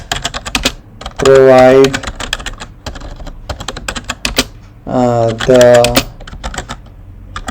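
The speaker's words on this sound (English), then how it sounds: "So subject, I can just type it down." Typing an email subject on a computer keyboard makes rapid, close key clatter throughout, with a person speaking briefly over it twice.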